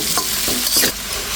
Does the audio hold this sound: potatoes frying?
yes